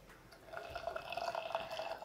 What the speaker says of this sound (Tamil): கொஞ்சம் தண்ணி விட்டுருக்கேன்.